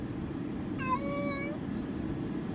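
A house cat lets out a single drawn-out meow to be let out, clear and fairly close over a steady background hum.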